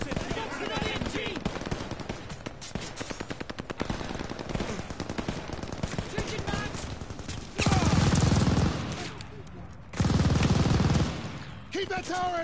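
Machine gun fire in the World War II shooter Call of Duty: Vanguard, with sustained rapid bursts and denser, louder volleys near the middle and end, mixed with battle noise and brief shouting.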